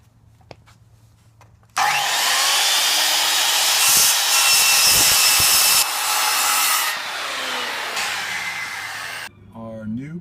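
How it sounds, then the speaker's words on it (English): A power saw cuts a top piece of vinyl window trim. The whine starts abruptly, holds loud and steady for several seconds while biting through the piece, then spins down. Quiet room sound can be heard before and after. "I'm going to cut this top piece of trim at"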